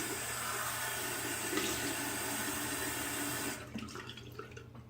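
Tap water runs steadily at a sink during a wet shave with a straight razor, a constant rushing flow that cuts off abruptly near the end, leaving quieter small splashes and drips.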